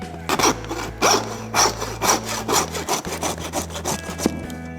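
A hand saw rasps through a beef bone in steady back-and-forth strokes, loud and close, about a dozen rhythmic passes with no voices.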